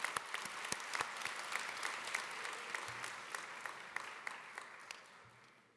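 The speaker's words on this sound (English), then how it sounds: "let's give a big round of applause to both of them" Commencement audience at a Golden Gate University graduation ceremony applauding academic achievers, a dense sustained round of clapping from a large crowd with a few sharp nearer claps, fading away at the end.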